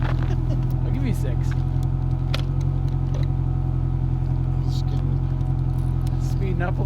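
A SAAB 900 engine drones steadily from inside the car while driving, a low constant rumble with a faint whine, close and unbroken, with people talking over it.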